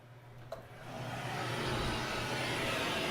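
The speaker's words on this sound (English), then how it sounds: "so we have the traffic noise back at the same." A steady broadband roar of passing traffic heard through a door swells and holds, muffled and constant, with a low hum underneath and one small knock near the start.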